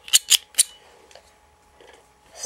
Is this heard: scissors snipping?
yes